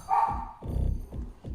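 Dogs bark in a quick series of several sharp woofs, fairly close, mostly alone with a high tonal sound at the start.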